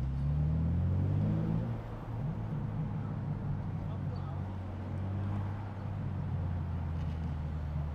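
A manual BMW G82 M4 rolls through New York City streets, its low engine drone steady and close, swelling slightly at the start, while someone talks over it throughout.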